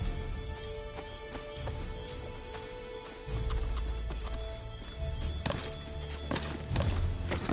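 Horse hooves clip-clopping in Assassin's Creed 3, a steady run of hoof strikes with a whinny or two over a low rumbling game soundscape, no talking.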